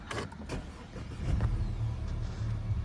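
An Audi TFSI car with an automatic gearbox starts up: a few short mechanical clicks come first, then a low, steady engine rumble settles in, heard close by.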